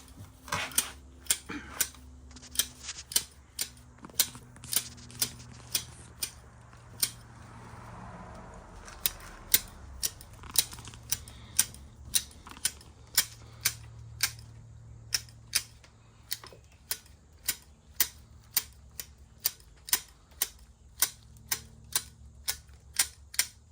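Sharp, regular snips of scissors trimming azalea bonsai foliage, dozens of crisp clicks at a steady pace over a low background hum, close and clear with no talk.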